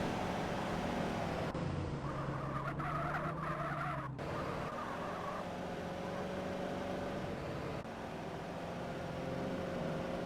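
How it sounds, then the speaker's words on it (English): A car engine in GTA Trilogy Definitive Edition hums with a steady, dated-sounding drone, the pitch shifting partway through as if revving or skidding, with a faint voice beneath. "Just take a listen to the car motor sounds and you'll see just how dated they are."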